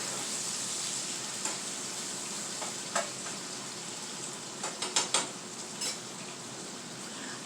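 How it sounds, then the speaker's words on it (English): Bacon sizzles and crackles steadily in a hot pan, a soft continuous frying hiss broken by a few sharp clicks and scrapes of a utensil stirring it, fairly quiet and close, with no talking. "Let me stir this bacon."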